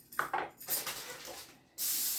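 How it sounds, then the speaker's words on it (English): Cleaner is sprayed onto a grill grate in several short hissing bursts, close and fairly loud, ending with a longer sustained spray. "So I'm actually going to spray. I don't know if this is going to help. Just cleaning wise, that grate"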